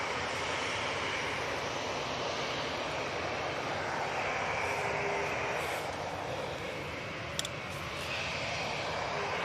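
A TUI passenger airliner departs Manchester Airport, its engines roaring in a steady, broad rumble that swells and fades at a distance with no talk over it.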